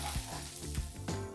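Gyoza frying in a pan after steaming, with the lid off as the liquid cooks away: a dense, close, continuous sizzle broken by a few soft bubbling pops.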